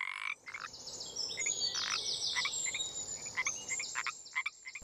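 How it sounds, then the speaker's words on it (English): A frog croaks in a rapid series of raspy, pulsing calls repeated many times, fairly faint over a quiet background with a soft insect-like hum. "I can hear the fourth frog."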